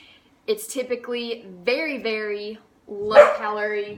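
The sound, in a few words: dog barking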